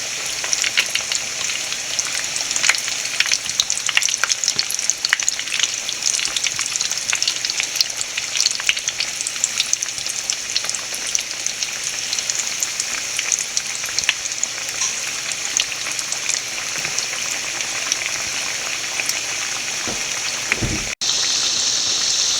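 Steady, loud sizzling of breadcrumb-coated beef cutlets frying in hot oil after being flipped, continuous crackle throughout with no voices, cutting off abruptly near the end.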